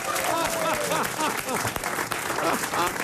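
Studio audience applauds during a French comedy radio-TV panel show, a steady wash of clapping throughout with voices talking and laughing over it.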